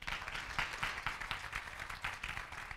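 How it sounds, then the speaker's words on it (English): Audience applause for a presenter at a digital marketing talk, faint and distant, a soft steady patter of many hands lasting a few seconds. "maybe a big round of applause to get him going"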